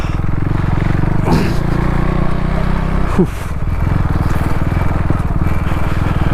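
A 390 motorcycle labours to climb a slope, its engine droning loud and steady throughout with a strained, uneven pulse and two brief bumps.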